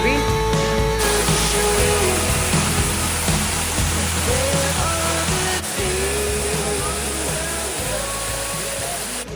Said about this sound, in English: The waterfall is down there.